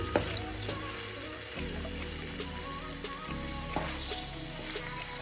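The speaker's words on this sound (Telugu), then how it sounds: "స్లోగా ఇవి మనం తిప్పుకోవాలన్నమాట ఆయిల్లో ఫాస్ట్గా తిప్పేస్తే పీస్ నలిగిపోతుంది" Paneer pieces fry in hot oil for a masala paneer curry, a steady soft sizzle with occasional light clinks and scrapes as the pieces are turned slowly.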